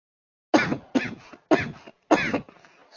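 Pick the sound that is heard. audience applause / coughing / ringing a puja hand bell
coughing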